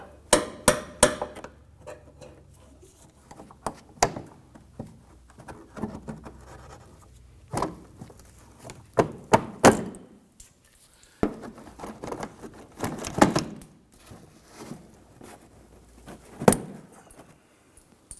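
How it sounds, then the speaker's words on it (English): Plastic push-button fasteners on a 2015-2020 Ford F-150 front inner fender liner popped out with a trim tool: sharp close clicks, snaps and knocks in irregular clusters with quiet handling gaps between. "We're going to use our trim tool. There's going to be 3 of these plastic push buttons here. I'm going to go ahead and pop these out."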